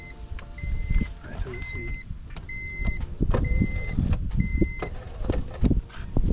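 A faulty power window on a 1996–1999 Honda Civic runs up and down repeatedly in a nearby car, its motor whirring with an odd accompanying noise while a person talks over it.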